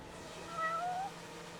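A cat in the video game Judgment gives a single soft, rising and falling meow, faint against quiet background ambience.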